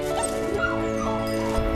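A hunting dog gives a short burst of yips and whimpering barks over a steady background hum, close and fairly faint.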